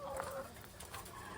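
Five caged hens cluck softly at close range in a steady, low murmur of short clucks over faint background noise, with no talking.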